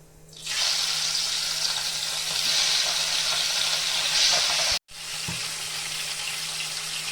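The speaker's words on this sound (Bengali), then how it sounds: "এখন তেলটা গরম হয়ে গেছে, মাছটা দিয়ে দিব।" Pabda fish dropped into hot mustard oil bursts into a loud, close, hissing sizzle that holds steady, cuts out for a moment, then resumes at full strength.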